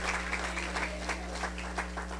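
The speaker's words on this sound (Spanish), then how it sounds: "A quien le damos un aplauso esta tarde" Church congregation applauding during a service, a moderate, steady patter of many hands under a constant low hum, with a few sharper claps standing out.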